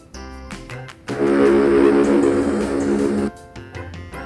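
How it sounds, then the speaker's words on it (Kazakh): A ship's horn blares in one deep, loud, sustained blast lasting a little over two seconds, standing out against faint children's music before and after. "Кеме."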